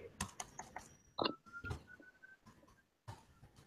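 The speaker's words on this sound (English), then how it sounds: "You can start typing." Fingers tap across a computer keyboard in quick, uneven bursts of light clicks, quiet and close, with a short pause before a final keystroke.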